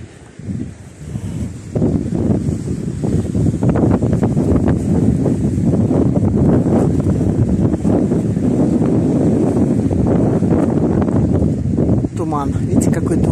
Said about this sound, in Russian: И шум моря.